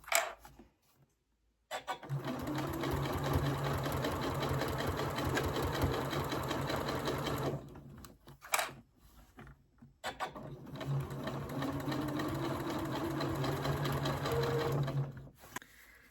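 A sewing machine stitches a boho bag in two long, steady runs of rapid rhythmic needle clatter, each lasting several seconds. Brief pauses with small clicks and handling noise separate the runs. No speech is heard.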